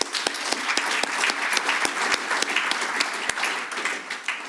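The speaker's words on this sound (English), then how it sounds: "So another big round of applause, please, for Rebecca, for Puawai, and for Craig." A conference panel audience claps steadily, a dense and sustained round of applause with no talking.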